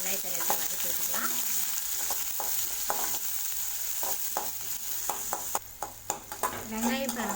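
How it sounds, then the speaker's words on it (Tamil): Chopped onions sauté in a pan for a brinjal gravy, a continuous close sizzle broken by a series of scraping and tapping strokes from a ladle, with a voice talking over part of it. "சேர்த்துட்டு வெங்காயத்தை எடுத்து வதக்கி வச்சுக்கலாம்"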